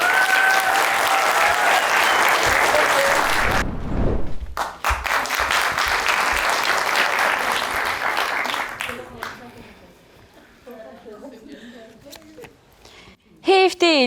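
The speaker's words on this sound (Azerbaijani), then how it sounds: "Alqışlarınızla" A studio audience bursts into loud applause to open a comedy sketch, dense clapping that holds strongly for several seconds, then gives way to a thud, quieter room sound and voices talking.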